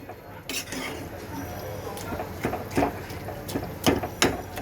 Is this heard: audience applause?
no